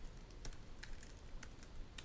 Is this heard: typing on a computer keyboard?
yes